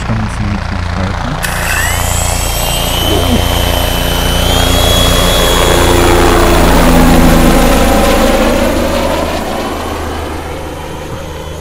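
A helicopter engine spins up and runs in Berlin, heard close and loud as a deep throbbing rumble with a rising whine that swells and then steadies throughout.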